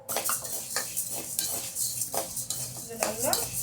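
Lentils dry-roast in a pan, with repeated metal scrapes and clinks of a spoon stirring them, a quick irregular rhythm up close and faint dry rustle beneath.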